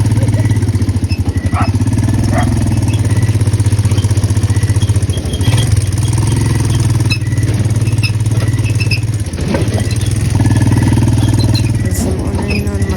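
A motorcycle rolling in to park, its engine idling and putting along loud and close with a steady mid-pitched throb, small squeaks and shifts in tone as it moves.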